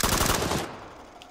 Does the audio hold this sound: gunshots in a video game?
yes